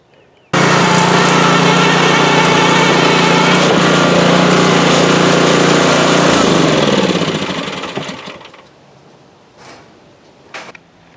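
A DR SP30 30-inch walk-behind lawn mower runs loud and close, its engine steady while cutting tougher Bahia grass, then winds down and fades near the end with a few faint knocks after it stops.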